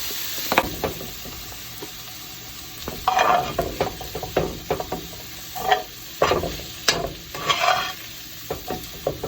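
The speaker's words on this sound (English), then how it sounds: "So just let it cook down and soften up the veggies." Seasoned vegetables soften in a pot for a chicken and gizzard cornbread dressing, giving a soft close sizzle broken by repeated scraping stirs, with no talking.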